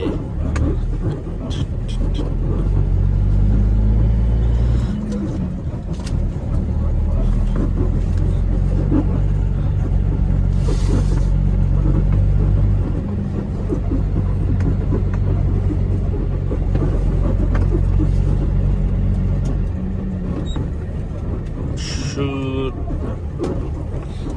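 A car engine in second gear gives a steady, close low rumble that runs throughout, with people talking over it.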